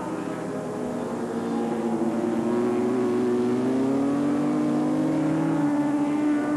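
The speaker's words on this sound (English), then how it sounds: "There's Phillis coming up over the bridge now as Campbell exits on the other side." A 1985 superbike, including a 750cc-based machine, races over the bridge at Oran Park circuit, its engine a steady loud drone with a slowly rising pitch as it accelerates, heard alone without commentary.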